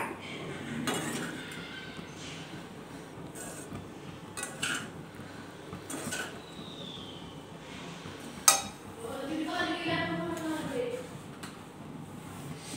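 Egg fried rice being stirred in a pan, with repeated metal clinks and scrapes of a utensil against cookware over a steady kitchen background.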